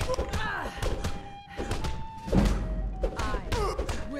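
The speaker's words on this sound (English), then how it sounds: "Punch. Punch." Dull punching thumps from Skyrim's combat land repeatedly at an irregular pace, mixed with game voices and ambient sound, and a person talks over the hits.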